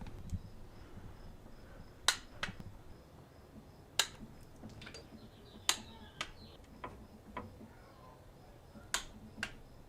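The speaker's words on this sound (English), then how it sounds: "Now I'm torquing the spark plugs down to 13 foot-pounds." Sharp isolated clicks from a torque wrench tightening spark plugs on a Hummer H3, about a dozen crisp ticks spaced irregularly over steady low background hum, close and fairly loud with no talking.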